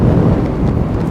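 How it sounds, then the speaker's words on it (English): Strong wind gusting across an open, elevated shopping district near Bayers Lake, a loud, steady buffeting roar with low rumbling microphone wind noise throughout, no voices. "But up here it's always windy."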